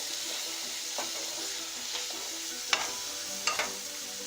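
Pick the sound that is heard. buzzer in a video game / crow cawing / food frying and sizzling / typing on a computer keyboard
food frying and sizzling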